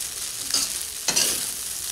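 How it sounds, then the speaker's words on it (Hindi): Soya vegetable biryani, yellowed with saffron, being stirred in a pot, giving two short scraping swishes of a spoon through the rice over a faint steady sizzle, close and moderately quiet with no talk. "अब इसको अच्छे से मिला के"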